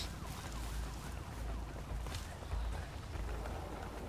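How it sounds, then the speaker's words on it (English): Wailing police sirens from the video game A Way Out rise and fall over a dense, noisy background, fairly quiet and steady across the whole stretch. "I hear sirens. Is that on the game or is it outside? No, it's on the game."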